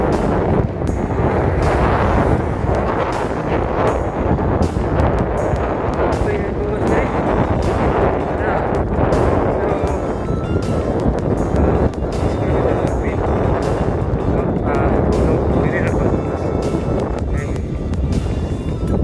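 Strong wind on a long bridge in the Philippines buffets the microphone in loud, continuous roaring gusts with low rumbling throughout.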